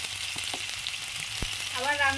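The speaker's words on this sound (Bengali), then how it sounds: "উনুন জ্বালিয়ে মাংসের আলুটা আগে ভাজছি, গোল গোল মাংসের আলু।" Round potatoes for a meat curry fry in oil in a pan over a lit stove, making a short, steady sizzle close by. A few faint knocks sound under it, and a brief tonal sound comes in near the end.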